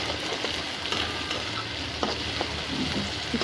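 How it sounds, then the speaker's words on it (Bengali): Bay leaves, dry chillies, nuts and chopped onion fry in hot oil, giving a steady, close sizzle throughout with a few light spoon-stirring clicks and no voices. "তাই এখানে কিছু তেজপাতা, শুকনো মরিচ, বাদাম, পেঁয়াজ এগুলোকে হালকা করে ভেজে নিব।"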